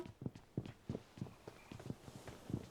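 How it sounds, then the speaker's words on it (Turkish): Footsteps in the mobile shooter PUBG Mobile Lite: a steady run of soft, evenly spaced thuds, fairly faint and alone without talk. "Oğlum her yerden ayak sesi geliyor."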